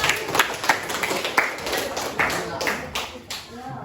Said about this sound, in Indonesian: Beri tepuk tangan untuk kelompok kami.